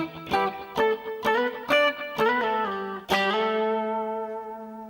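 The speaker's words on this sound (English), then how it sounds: "So we're back to the clean sound and we're back to the octave shapes." A clean electric guitar plays octave shapes from the outro of a song, with crisp, distinct plucked notes in a measured phrase, ending on a longer note that rings out with a soft reverb tail.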